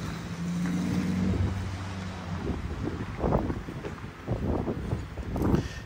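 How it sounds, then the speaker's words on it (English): Strong gusty wind buffets the microphone outdoors in Tombstone, rumbling and surging in uneven bursts throughout. "it's real windy and blustery"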